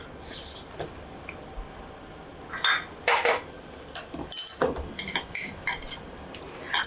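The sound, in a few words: spoon mixing hot oil into flour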